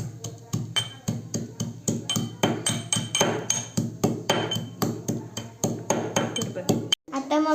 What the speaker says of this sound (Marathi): मम्मी लसूण ठेचते.